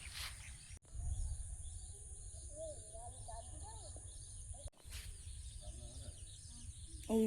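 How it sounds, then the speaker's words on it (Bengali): Frogs croak in a shallow waterlogged field during the monsoon, a busy chorus of warbling calls set against steady insect buzz, moderately distant and continuous throughout. "এই যে অল্প অল্প জল প্রায় জমে গেছে মাঠটাতে, আর ব্যাঙ ডাকছে প্রচন্ড"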